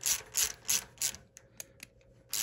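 A lathe saddle gib adjustment screw is loosened with a hand tool, giving four quick ratcheting clicks in a row followed by a few sparse, lighter clicks, close and moderately quiet.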